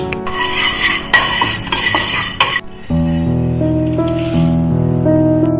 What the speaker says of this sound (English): I am going to add half a teaspoon of fenugreek seed, 1 teaspoon of peppercorns